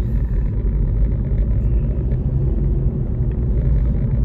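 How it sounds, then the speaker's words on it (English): A car engine rumbles steadily from inside the cabin while driving, a loud continuous low drone with no talk over it. "I'm taking my car for like a little stroll, a long way home."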